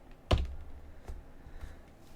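A computer keyboard is tapped for a terminal command: one sharp, loud keystroke near the start, then a few softer, sparse key presses spaced apart.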